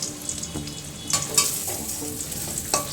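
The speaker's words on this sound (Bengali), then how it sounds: "এবার আঁচটা একটু বাড়িয়ে দেবো যাতে মচমচে করে ভাজা হয়।" A stale-bread potato sandwich fries in a pan over raised heat, giving a steady close sizzle broken by a few sharper crackles and scraping stir sounds, with no voices.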